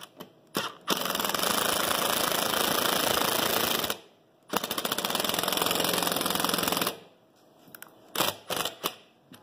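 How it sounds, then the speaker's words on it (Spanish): A power drill drives a screw into wood for a homemade ironing-board chair, two long whirring bursts of loud motor buzz separated by a pause, followed by short stop-start trigger pulses as the screw seats. "Y metemos el tornillo."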